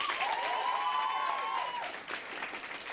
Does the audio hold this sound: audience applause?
yes